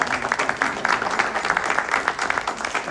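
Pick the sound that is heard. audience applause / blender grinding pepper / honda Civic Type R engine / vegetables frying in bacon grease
audience applause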